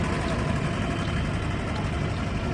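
A miniature steam engine mounted on a bed at the back of a vehicle runs at a Bedfordshire steam rally, giving a steady, dense mechanical chugging and rumble that stays loud and continuous throughout, with faint voices in the background.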